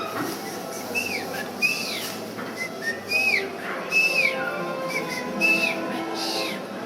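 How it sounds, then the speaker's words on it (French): A person whistles a traditional mountain-people song used to convey messages, a series of short rising and falling melodic phrases, clear and fairly close, repeating in a steady pattern over faint background noise. "Seulement je vais siffler."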